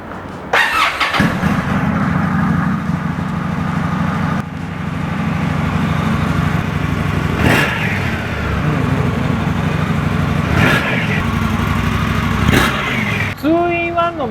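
An Indian Scout water-cooled motorcycle with a thick, large silencer starts up and settles into a steady, deep, loud idle, with a few brief throttle blips along the way and a clank near the end.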